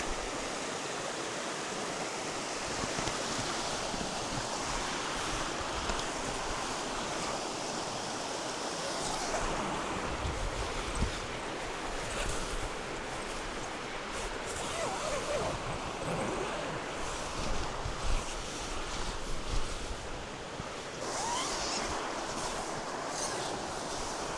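Creek water rushing past a mountain campsite along Cedar Creek in Montana, a steady close hiss and babble with light shifting splashes, continuous throughout with faint occasional talk.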